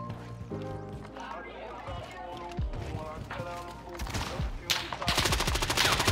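Rapid game gunfire from a console first-person shooter, dense bursts of shots and footsteps layered over music and effects, a player's voice talking over the action.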